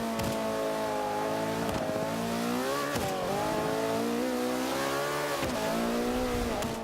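A McLaren P1 engine screams through a hot lap in Forza 5, loud and sustained, with rising and falling revs and sharp shifts breaking the pitch every second or two, heard alone without voices.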